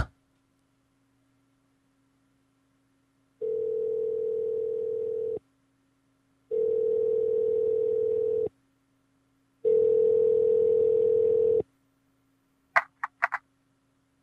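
Telephone tones sound while a call is being placed: three long, steady, identical tones separated by short silences, then a few brief clicks at the end, with no talking.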